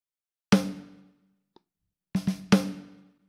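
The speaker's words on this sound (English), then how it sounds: "you've got your dedicated reverb, which sounds a little bit like this" Drum hits run through a dedicated reverb in the GGD P4 drum plugin: one isolated strike with a decaying tail, then a quick cluster of three hits ringing out, clean and alone.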